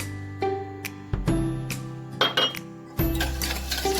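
Cake batter with a little oil being beaten in a bowl, the utensil knocking and clinking against the sides in irregular bursts close by over a low background hum.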